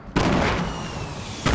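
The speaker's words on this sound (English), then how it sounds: "They're rocketing now. We're getting rocketed." Loud rocket explosions in Fortnite Battle Royale, one big booming blast with a long rumbling decay followed by the onset of another, close and heavy.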